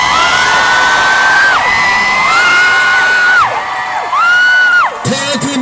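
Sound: fans screaming and cheering at airport welcome

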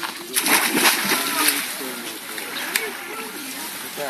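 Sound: splash of people jumping into icy spring water

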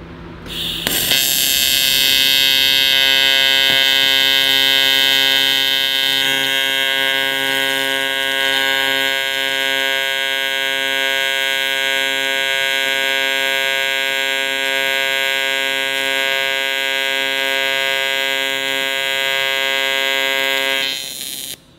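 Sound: welder buzzing while welding with filler rod

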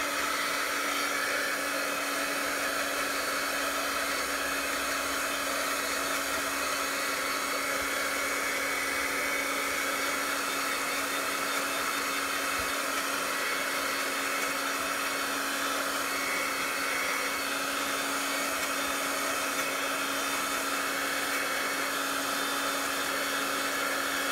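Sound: hair dryer blow drying dyed sari silk and deli paper

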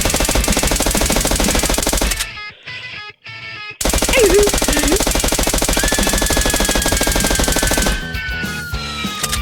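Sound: machine gun firing in a video game

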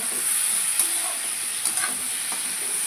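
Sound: potato and pumpkin curry sizzling in a pan

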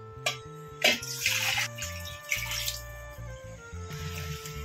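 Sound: water poured into ridge gourd sambar

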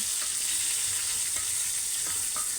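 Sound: eggplant frying in a pan, being flipped

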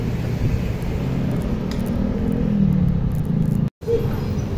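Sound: car passing on a narrow road

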